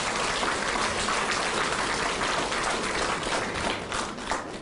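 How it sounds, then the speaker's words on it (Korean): An audience applauds at a political talk on unification and security, steady dense clapping that carries on evenly throughout. "박수 한번 주시죠"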